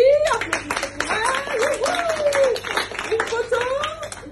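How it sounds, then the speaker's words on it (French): Sparse audience clapping at a French ceremony where an award is presented, the claps scattered under a prominent voice talking throughout. "Applaudissements."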